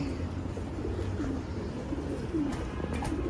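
Racing pigeons in a stock loft coo in soft, repeated low calls, close by against a steady background hum.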